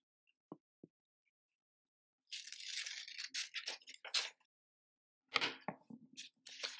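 Scissors cutting the edge off folded paper for a snowflake: two small clicks, then a few seconds of crisp snipping and crunching, a short pause, and another quick burst of cuts.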